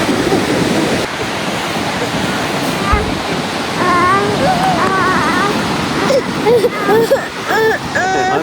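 Ocean surf at a beach in Pismo gives a loud, steady wash of breaking waves throughout, with wind noise on the microphone and people talking and exclaiming over it in the second half.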